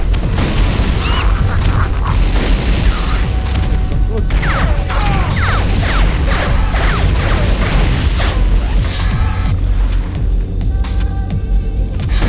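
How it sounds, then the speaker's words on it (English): Explosions from the Scorpion missile launcher in the 1998 video game Turok 2 multiplayer, a dense run of loud booms and crashes with mechanical clatter, continuous and close throughout. "Oh, yeah. Scorpion missile launcher."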